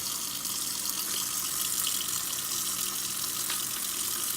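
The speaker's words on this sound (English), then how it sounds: "throw it in the sink and then rinse it off" Steady tap water streams into a kitchen sink as husked tomatillos are rinsed, a continuous close hiss and splash with no talking.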